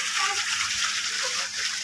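Water rushes in a steady, loud wash across an open rooftop while a water tank is being cleaned, a continuous splashing flow with no clear pauses.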